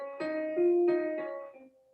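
A short melodic run in Phrygian mode, several sustained pitched notes played one after another, close and clear with no talking.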